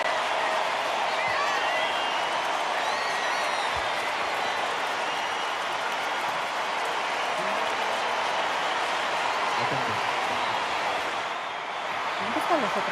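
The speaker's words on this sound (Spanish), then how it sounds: "Todo el mundo de pie, esta alegría," A stadium crowd at the Santiago Bernabéu gives a standing ovation, with dense sustained applause and cheering holding steady at a distance throughout.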